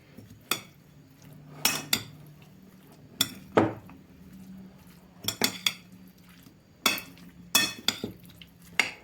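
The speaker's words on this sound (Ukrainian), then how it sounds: "Все разом перемішую." Eggplant salad dressed with mayonnaise and French mustard is mixed in a bowl. A spoon clinks and scrapes against the bowl in irregular, close bursts with quiet gaps between them, and no one speaks.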